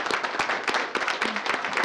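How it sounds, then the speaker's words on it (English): A round of applause at a city council meeting, many hands clapping in a steady, dense patter throughout, fairly close and even in loudness. "Let's give them a round of applause"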